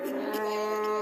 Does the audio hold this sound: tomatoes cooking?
no